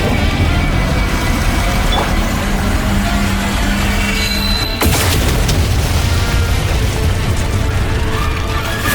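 Heavy booms and rumbling blasts from bombs exploding in the Genshin Impact video game, a loud sustained barrage with a sharp burst about halfway through, over constant battle noise.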